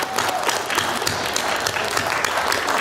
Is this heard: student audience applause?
yes